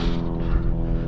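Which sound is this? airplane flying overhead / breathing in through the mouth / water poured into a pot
airplane flying overhead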